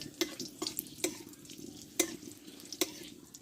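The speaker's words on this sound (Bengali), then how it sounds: "একটু লালচে করে ভেজে নেব লঙ্কাটা" Dry red chilies, a bay leaf and whole cumin frying in hot oil, with a steady soft sizzle and five sharp metal spoon scrapes against the pan, close by.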